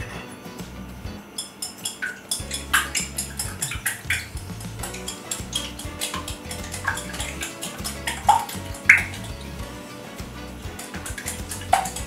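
Eggs and black pepper are mixed in a bowl with a utensil, giving quick repeated clinks and scraping taps in an irregular rhythm, with a few sharper knocks against the rim.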